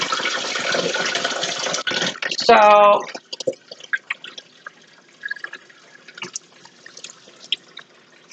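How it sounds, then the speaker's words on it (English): Homemade vegetable stock strained into a pitcher: about two seconds of steady splashing pour, then scattered drips and small clinks, with a brief voice partway through. "I like strain it over a pitcher"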